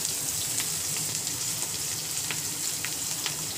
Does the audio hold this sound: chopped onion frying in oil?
yes